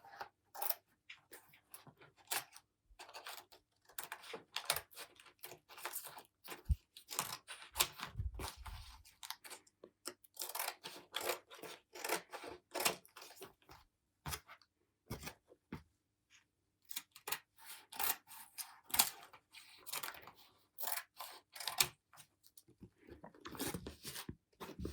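Scissors snip through paper for a home collage, giving a long run of quick, crisp cuts in irregular bursts, close and alone with no talk.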